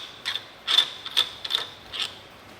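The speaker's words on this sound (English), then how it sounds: "I'll have a knob on the other side that we can unscrew." A knob on a Hollywood Racks Destination bike rack pin, fitted to a 2023 Toyota Highlander, is being unscrewed, giving five quick bursts of close, crisp ratcheting clicks with brief pauses between them.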